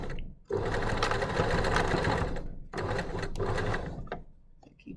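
Sewing machine stitching a dress lining along the neckline, two long close runs of busy rapid mechanical chatter separated by a brief pause, ending with light clicks.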